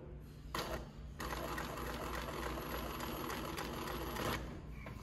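A Consew industrial sewing machine fitted with a needle positioner, running in a showroom, gives a steady close whirring hum that starts, pauses briefly and then runs continuously for several seconds with no talk.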